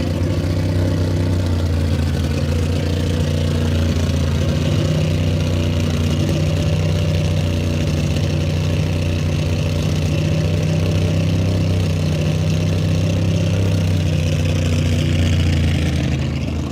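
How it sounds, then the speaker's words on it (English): Vintage-engine gas modified roadster race car running at a speed trials event, a loud steady engine drone holding for the whole stretch, smooth and continuous with a slight rise near the end. "For a vintage engine, that thing sounds really nice."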